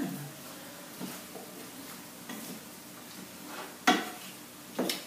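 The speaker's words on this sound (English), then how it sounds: "All right, give it a quick stir" Cooked chard being stirred quickly in a pan, heard as faint scrapes and a couple of soft clinks of a utensil against the cookware over a low sizzle.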